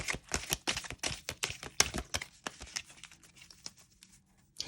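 Glossy oracle cards from the Divination of the Ancients deck being shuffled by hand, giving a quick run of crisp, light slapping and riffling clicks close up that slow and thin out before a brief final flutter.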